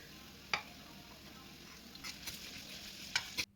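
Chopped onions sautéing in hot oil for a Kerala chicken roast, a faint, steady sizzle with occasional sharper clicks of a spoon against the pan, quiet and close, ending abruptly.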